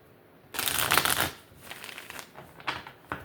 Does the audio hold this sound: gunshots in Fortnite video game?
no